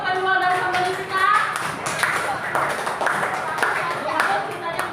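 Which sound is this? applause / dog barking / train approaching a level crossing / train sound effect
applause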